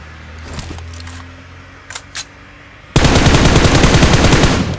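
Sustained rapid automatic gunfire in a video game shootout bursts in loud and dense for the last two seconds, after quieter rustling and faint thumps.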